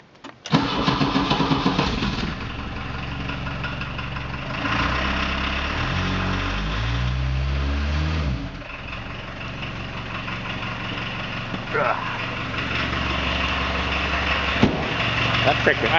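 A Volkswagen Vanagon engine cranks and fires on a cold start, then settles into a steady, fairly loud idle with slight shifts in pitch, heard alone without talk.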